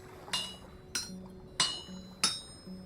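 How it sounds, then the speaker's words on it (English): Four ringing hammer strikes land on a metal workpiece over an anvil in Vintage Story, each a sharp bright clang with a short metallic decay, spaced roughly every two-thirds of a second over a low steady hum. "At least I can hammer, flatten it out a little bit. Essentially making a plate."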